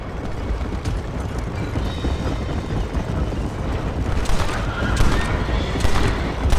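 Gunfire in Red Dead Redemption: a dense, continuous barrage of shots over a roaring, noisy background, with a few sharper cracks standing out near the end.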